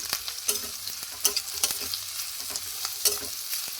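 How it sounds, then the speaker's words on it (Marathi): Chopped onions with a pinch of salt sautéing in a pan for a Maharashtrian methi bhaji, giving a soft steady sizzle with scattered scraping stir strokes, close and moderately quiet, with no talking. "आता थोडासा ट्रान्सपरंट कांदा होईपर्यंत आपल्याला याला परतून घ्यायचं आहे."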